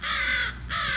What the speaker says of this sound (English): Oh my god, birds.